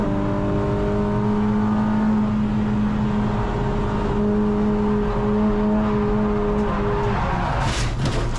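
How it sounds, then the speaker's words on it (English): A Renault Clio RS 200 drives hard on a track day, its engine droning loud and steady from inside the car, with a brief tire squeal near the end. "he's driving a Renault Sport product. It's a Clio RS 200"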